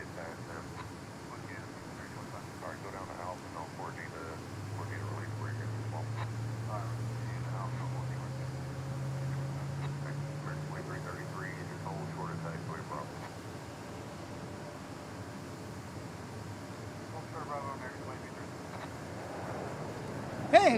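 A departing airplane at DFW International Airport rumbles faintly in the distance, its engine tone slowly rising and swelling over several seconds against steady background noise.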